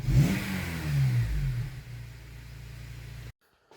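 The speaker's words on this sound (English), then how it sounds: "So as I hit the throttle." A car engine is revved as the throttle is pressed during an A/F sensor range/performance fault check, giving a single loud rising surge that eases into a steady hum and then cuts off abruptly.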